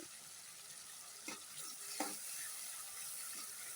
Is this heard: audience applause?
no